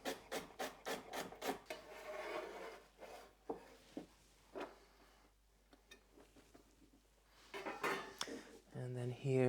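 A knife chops celery and then carrot on a cutting board in a home kitchen, with quick rhythmic knocks, pauses filled with soft scraping and rubbing, and a few more firm chops near the end, all close and quiet.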